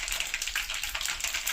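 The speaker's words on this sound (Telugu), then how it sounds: "ఆవాలు చిటపట్లు ఆడుతున్నాయండి." Mustard seeds spluttering and popping in hot oil in a home kitchen while tempering for bitter gourd pickle, a dense continuous crackle of fast tiny pops, close and fairly quiet, with no talking.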